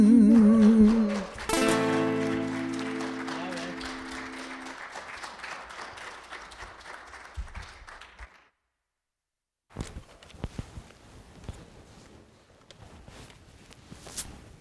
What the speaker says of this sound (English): It's okay to give them another round of applause.